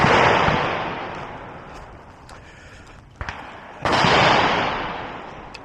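A Glock 47 pistol fitted with a Radian Ramjet fires loud, close shots outdoors, with a few sharp cracks, each followed by a broad decaying echo.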